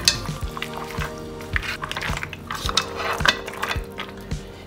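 Dried oregano, parsley and basil being mixed in a pan for seafood spaghetti, close clinks and scrapes of a utensil against the pan at a quick irregular rhythm over a low steady sizzle.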